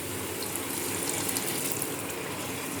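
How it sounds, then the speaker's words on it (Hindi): Water poured into a pan of meat and peas curry (matar gosht), a continuous, fairly loud rushing pour with no talk. "तो अब मैं इसमें थोड़ा सा पानी डाल के ना ग्रेवी बना लूँगी।"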